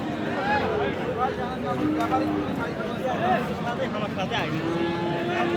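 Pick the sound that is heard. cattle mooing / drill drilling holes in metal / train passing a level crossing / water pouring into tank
cattle mooing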